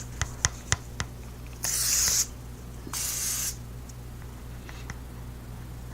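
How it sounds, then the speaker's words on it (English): Two short hissing bursts of Morphe Prep and Set makeup setting spray, the second slightly softer, following a few faint taps, in an otherwise quiet room. "I'm also going to set my makeup using the Morphe Prep and Set Makeup Setting Spray"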